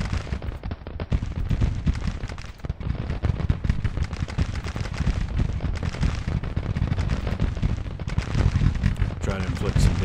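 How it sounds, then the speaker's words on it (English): Dense, continuous battle din from Grand Tactician: the Civil War, with booming counter-battery artillery fire against enemy guns mixed into heavy gunfire, loud and sustained throughout without a break. "Let's go ahead and go back to counter battery fire"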